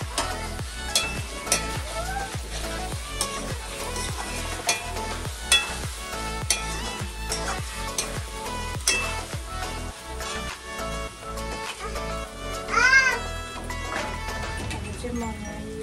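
Chicken pieces sizzle in a pan with ground spices while a spoon scrapes and stirs in quick repeated strokes, the frying hiss constant underneath and a voice talking now and then.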